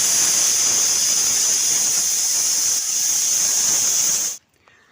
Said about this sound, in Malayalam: അപ്പം ഞാൻ 2 വിസിലോളം ഞാൻ അടുപ്പിച്ചെടുത്തിട്ടുണ്ട് കേട്ടോ, ഉള്ളി നന്നായിട്ട് വെന്ത് വരാൻ വേണ്ടിയിട്ട്. അപ്പോൾ അതിൻ്റെ ആവി പോകുന്നത് വരെ അതിൽ കിടക്കട്ടെ.